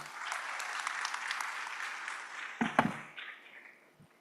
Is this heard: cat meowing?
no